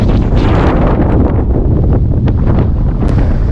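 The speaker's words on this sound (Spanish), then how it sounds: "Ahora volvió el viento más fuerte." Strong gusting wind buffeting the microphone on an exposed slope above the forest in Karukinka Park, Tierra del Fuego, a loud continuous roar with no talking.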